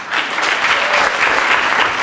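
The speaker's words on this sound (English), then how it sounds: "Round of applause for Cleo." An audience at a poetry slam during the Wenlock Poetry Festival 2011 claps for a poet. Dense, steady applause from a crowd fills the room at close range for a couple of seconds.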